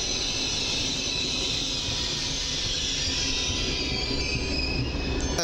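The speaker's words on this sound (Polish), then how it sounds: "I mamy kolejne pendolino." A Pendolino high-speed train runs through Warszawa Zachodnia station: a loud, continuous rail rumble with high wheel squeal and a steady metallic hiss fills the whole stretch, and no voices are heard.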